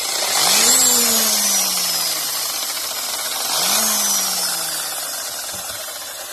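A homemade carrot-cone screw log splitter, switched on with a foot button, runs as a loud steady motor drone, with two rising-then-falling whines as it spins up and winds down, alone without talk.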